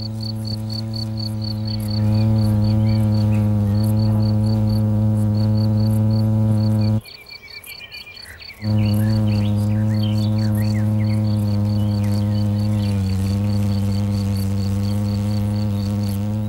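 Wasps fan their wings inside the nest to ventilate it, giving a steady, close, droning buzz that breaks off for a moment midway and then resumes, with a faint high chirping tone throughout.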